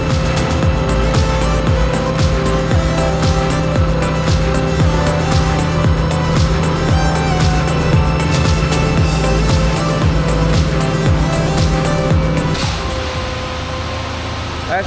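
A truck engine rumbles steadily at a barndominium build site where concrete trucks are dumping and pumping, loud and close with a constant low drone, easing off near the end.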